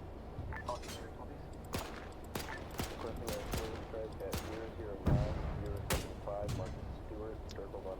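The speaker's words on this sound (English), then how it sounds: "Artillery, ground command. And he just took a giant shell to the face" Artillery shells and gunfire pound in an Arma 3 winter battle set in a German Iron Front scenario, with repeated sharp blasts and rolling fusillades while someone talks over them.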